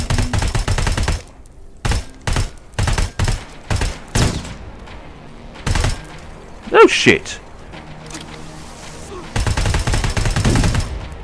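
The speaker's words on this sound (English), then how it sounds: "I like the sound of the like machine gun and all. That's actually quite nice. It's like a big heavy thud." Heavy machine gun fire in the video game Terminator Resistance comes in thick, thudding bursts, some long and some short, with gaps between them. A voice exclaims once in the middle.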